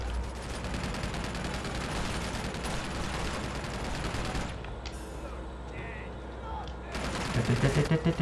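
Gunfire from the video game Uncharted 2: Among Thieves, a dense, continuous barrage of shots at steady loudness, easing off midway before heavy rapid bursts return near the end.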